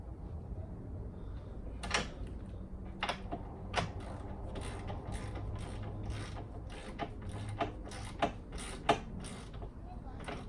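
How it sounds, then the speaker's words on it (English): A long wrench tightens the intrusion bar bolts on a Can-Am X3 Maverick XRS MAX, giving repeated sharp ratcheting clicks and metallic knocks up close over a low background hum, with talk in the background. "I had to bring out the long wrench"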